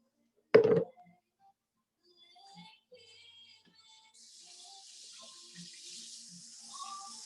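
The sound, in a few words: rinsing hands under a running tap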